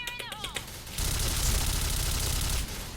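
A Kriss XMAS submachine gun fires in a video game, a brief voice first, then a sustained rapid burst of automatic fire lasting under two seconds before cutting off.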